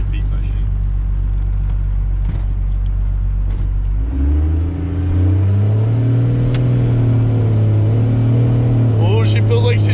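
Stock second-generation Cummins 12V diesel truck running on nitrous, a loud low rumble with a strong in-cabin drone that climbs steadily in pitch as it accelerates hard, with voices in the cab over the engine.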